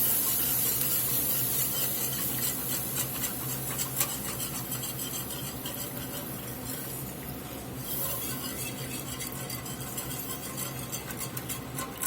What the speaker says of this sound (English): Try to scrape the bottom of this skillet. Get all them goodies up off of there.